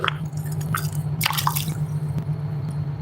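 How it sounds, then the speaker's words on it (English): Small waves lap and drip against rocks at the edge of a carp fishing spot, close to the microphone, with scattered wet splashes and squishy trickles over a steady low background hum. "I like to get the camera in close to the water so you guys can hear that, that nice little waves on the rocks."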